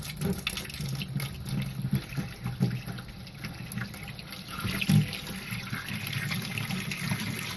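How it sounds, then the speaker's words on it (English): Water drains from an opened sprinkler system pipe in a steady, close, hissing trickle and splatter, continuous throughout with slight surges and no talking. "Alright, so now it should just drain out instead of spurting out at me at first."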